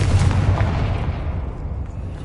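In the video game Hogwarts Legacy, a Confringo blasting spell explodes with a loud, booming burst that quickly decays into a rumbling tail.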